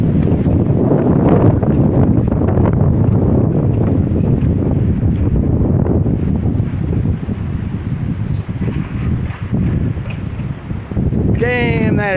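Strong storm wind buffets hard during a thunderstorm after a tornado warning in Florence, Kentucky, a loud continuous roaring rumble with gusty swells, and a faint chirp near the end.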